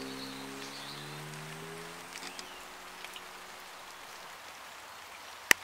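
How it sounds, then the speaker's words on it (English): Light drizzle falls outdoors on a walk along a Taunton shortcut, a faint steady patter with a few soft drops, under a fading low engine hum and one sharp click near the end. "it's raining, it's dribbling"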